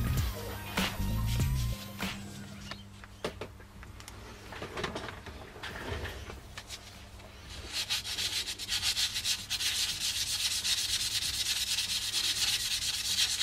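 A hand-cut opal is rubbed by hand on 400-grit abrasive over soft backing, giving close, repeated scratchy strokes that start sparse with a few knocks and build into continuous gritty rasping.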